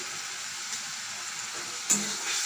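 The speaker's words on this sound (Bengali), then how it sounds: "এটাকে ভালো করে কষিয়ে নেব।" Arum stolons sauté in a pan with turmeric and salt, giving a soft, steady sizzle with a brief louder clatter near the end.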